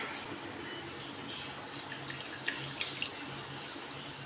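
Tamarind water being poured into a pot of rasam gives a steady, close liquid splash with a few small drips and splashes near the end, and no voices.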